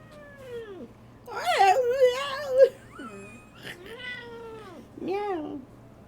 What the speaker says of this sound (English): Yes, that's my cat, Tesla.